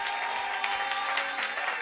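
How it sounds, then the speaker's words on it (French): Church congregation at a convention clapping steadily, a dense, even wash of applause filling the space with no break. "Des mains d'acclamation, s'il vous plaît."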